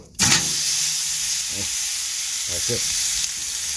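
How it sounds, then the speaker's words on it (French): Food sears on a very hot barbecue with a loud, steady, close sizzle and crackle. A few faint low murmurs sit underneath. "Le crackle, là, on est en train de searer ça, là."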